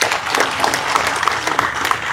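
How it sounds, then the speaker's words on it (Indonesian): Applause for the civil servants of Banyumas Regency at a morning assembly, a steady wash of clapping from a crowd that holds at an even level throughout. "Saya berikan apresiasi, aplaus untuk Banyumas."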